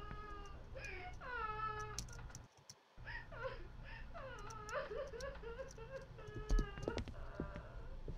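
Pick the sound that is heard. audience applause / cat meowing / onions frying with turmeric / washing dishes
cat meowing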